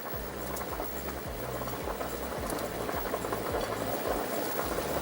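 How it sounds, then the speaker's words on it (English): Small meatballs cook in a pot of boiling water held at a light simmer, giving a steady bubbling and popping with rhythmic liquid patter throughout, close and moderately quiet. "all they take now is to go into some boiling water"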